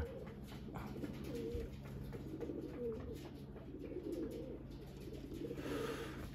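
Racing pigeons coo steadily inside a flyers loft, several soft, rolling calls overlapping in a low continuous murmur at close range, with no voices.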